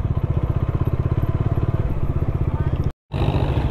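A tractor engine at the Garh Ganga fair thumps steadily and loudly with a fast, even pulse, cut off by a brief gap near the end before resuming.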